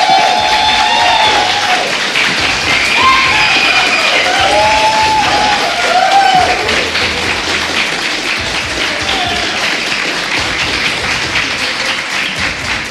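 A live StarCraft II World Championship Series esports crowd applauds and cheers in a steady, dense wash of clapping and voices that stays loud throughout, easing slightly toward the end.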